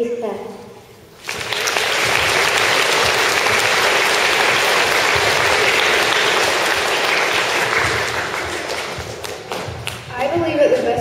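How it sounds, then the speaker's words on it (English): Audience applause at a school assembly: loud, dense clapping swells in after a brief pause and holds steady for about nine seconds before tapering off, with voices stirring faintly at the end. "If you plan to be proactive in 2015, along with me, please clap."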